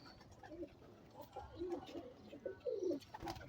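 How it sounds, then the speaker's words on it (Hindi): A full-sized pigeon coos in a short series of soft, low, rounded calls, fairly faint against a quiet background. "और पूरे साइज का कबूतर है"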